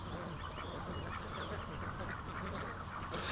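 Ducks quack and honk during mating, with two males competing over a female, a busy overlapping flock noise close by under steady background din.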